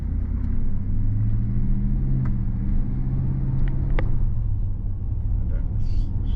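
Heard from inside a Tesla driving forward on self-driving, a steady low road rumble and tyre noise continue with no break, with a few faint clicks over the hum.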